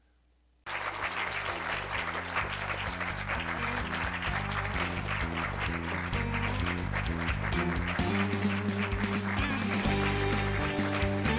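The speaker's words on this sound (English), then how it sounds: "Why does it feel like they continue to use the exact same little B-roll thing of them clapping?" Crowd clapping in an audience, steady, dense applause bursting in after a moment of quiet and continuing loudly without pause, swelling slightly toward the end, with no voices standing out.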